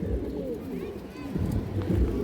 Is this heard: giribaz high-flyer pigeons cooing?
yes